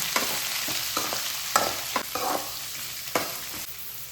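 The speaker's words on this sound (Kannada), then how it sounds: "ಇವಾಗ ಈರುಳ್ಳಿ ಹಾಕ್ಕೊಳ್ತೀನಿ. ತುಂಬ ಫ್ರೈ ಬೇಡ ಆಗೋದು" Chopped onions and cashews frying in a pan for gendadadde, a steady, close sizzle broken by several sharp spatula taps and scrapes at an uneven pace, with no one talking.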